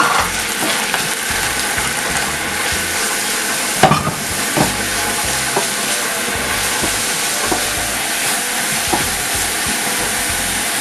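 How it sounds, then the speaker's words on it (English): Chopped onion and tuna flakes fry in a little oil, giving a steady, close sizzling hiss broken by occasional sharp scrapes and clicks of stirring. "gently fry my onion in a small oil because the tuna flakes is in brine. I'm going to use a little bit oil to fry the onion"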